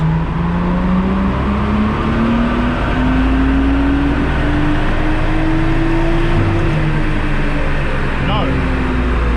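A Nissan Skyline engine runs loaded on a dyno during ECU tuning, a loud, steady drone with a slowly rising pitch under constant roaring noise.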